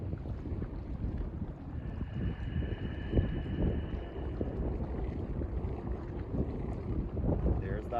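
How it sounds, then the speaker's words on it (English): Steady wind buffets the microphone beside a glacier lagoon in Iceland, a continuous loud rushing roar that runs the full length without letting up. "Icelandic wind again."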